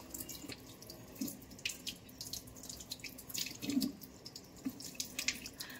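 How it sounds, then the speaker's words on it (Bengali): Running tap water splashes steadily while a rabbit's feet are rinsed in a sink, with soft irregular drips and small louder splashes throughout. "আমি পাগুলো জাস্ট আমি জল দিয়ে দিয়ে ধুয়ে নিচ্ছি।"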